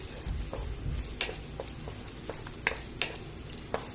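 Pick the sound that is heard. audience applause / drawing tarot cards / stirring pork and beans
stirring pork and beans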